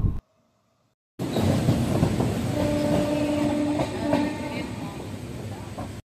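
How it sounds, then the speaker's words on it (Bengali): A train pulls out of Chennai Central station, with a loud, steady onboard rumble and clatter after a brief silent start, plus sustained tonal whines and a faint horn-like tone in the middle. "কিছুক্ষণের মধ্যেই আমাদের ট্রেন ছেড়ে দিল স্টেশন থেকে"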